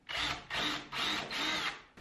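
A power drill pre-drills holes in tongue and groove siding on a film studio. It whirs in four short, close bursts with brief pauses between them.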